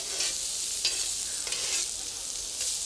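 Currants, raisins and almonds toasting with peppers over an open flame make a bright, loud hiss that swells with each stirring pass, several rhythmic surges in quick succession.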